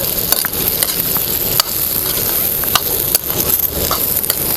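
Onion sautés in a pan for a spicy pavta bhaji, with loud continuous sizzling and occasional clicks of a stirring utensil against the pan.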